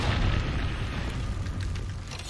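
Gunfire somewhere in the lava area of Apex Legends comes through as a muffled, distant rumbling boom that runs on steadily for a few seconds.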